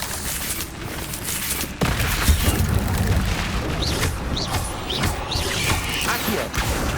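An Incendio fire spell in the Hogwarts Legacy video game is cast as a sudden loud whoosh and blast, followed by crackling, bursting fire and a series of sharp popping hits amid dense battle noise.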